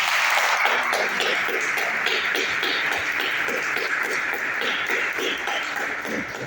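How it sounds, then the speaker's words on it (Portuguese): Congregation in a church service clapping together, a steady dense patter of hands that carries on for several seconds at a fairly even level. "Dá uma salva de palmas para Jesus."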